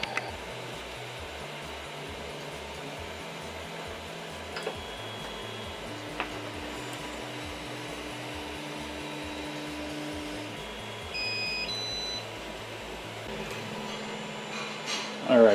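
Steady mechanical whir with a rhythmic ticking pulse as a Creality CR-10 3D printer levels its bed in slow, repetitive steps, occasional clicks and beeps on top.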